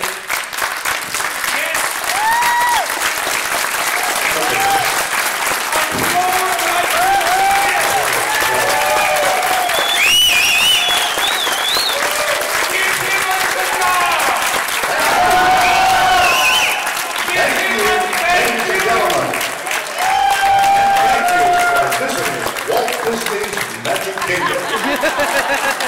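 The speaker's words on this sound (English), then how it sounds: "give a nice round of applause for a true Disney treasure." A standing audience at a Disney fan breakfast event gives a long, steady round of applause, dense clapping filling the room throughout with scattered cheers and voices mixed in.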